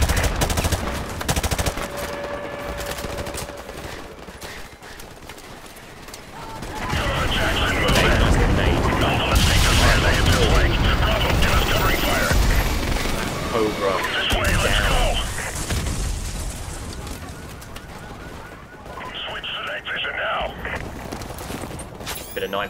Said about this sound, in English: It's some suppressive fire up there.